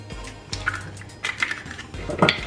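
Eggs are stirred into sugar in a bowl for a pineapple sponge cake, giving close, uneven scraping and clinking of a utensil against the bowl in short irregular strokes.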